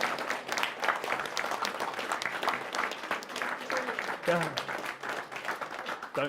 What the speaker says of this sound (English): Could you please show your appreciation to our three candidates, Metiria, Tūrei, Mai Reedy-Taare, and Rino T